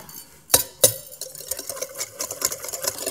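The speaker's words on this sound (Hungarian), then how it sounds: "És habosra keverem." Egg yolks whisked with granulated sugar in a bowl until foamy: rapid clinking and scraping strokes of the whisk against the bowl, steady and close, with two sharper knocks near the start.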